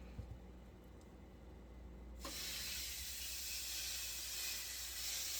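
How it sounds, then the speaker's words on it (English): Ham hits a hot skillet with a sudden loud sizzle that stays steady and bright, following a quiet stretch of faint kitchen noise. "So my skillet is hot enough for me to do my ham."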